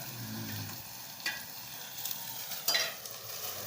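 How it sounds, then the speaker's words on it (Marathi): Crushed garlic frying in a pan, a soft continuous sizzle with a few brief stirring scrapes, close but fairly quiet, no talking. "लसूण पण चांगला परतून घ्यायचा लाल होईपर्यंत, चांगला असा"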